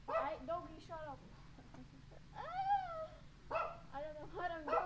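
A household dog lets out a few yips, then a drawn-out whining howl, and then more short barks, close by over a low background hum.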